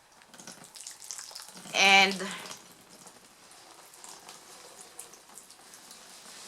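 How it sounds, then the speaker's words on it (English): Water is poured over freshly planted bean seeds in a garden bed for a thorough first soaking. A soft, faint hiss of water runs steadily, briefly interrupted by a short spoken word. "We're going to water this,"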